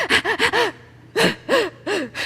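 A person imitates anxious, gasping breaths: a run of four quick, sharp inhaled gasps, a pause, then three more, loud and close with no other voice.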